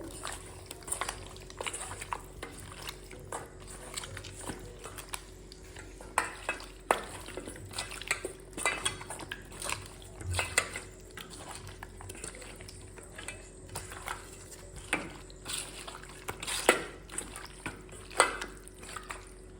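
Whole cinnamon and cloves frying in oil in a wok: a soft, steady sizzle under frequent clinks and scrapes of a utensil against the pan, close and moderately quiet, with no talking.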